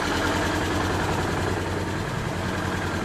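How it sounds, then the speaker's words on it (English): A Can-Am Outlander ATV engine idles with a steady, low rumble and constant vibration, heard close and alone without pause. "I'm just letting it idle"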